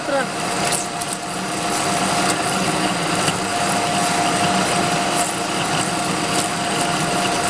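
A metal lathe parts off a pipe with a narrow cutting tool, giving a steady machine hum with a thin whine and faint scraping throughout, while someone speaks over it.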